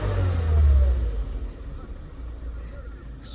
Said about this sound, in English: Just giving it a rev here, see what is going on.